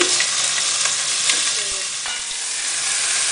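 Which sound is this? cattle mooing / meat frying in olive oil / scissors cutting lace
meat frying in olive oil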